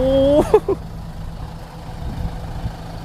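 A low, steady Kubota tractor engine rumble idles throughout, with a few brief higher-pitched mechanical squeals near the start.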